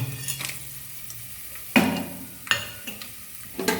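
Cloves, peanuts and almonds frying in a pan for bachelor-style pulao, with a steady close sizzle punctuated by a few sharp scrapes and knocks of a spoon against the pan.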